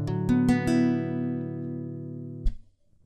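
Acoustic guitar chord change from a song: several quick plucked notes ring out near and clear, sustain and fade, then a single new pluck sounds near the end.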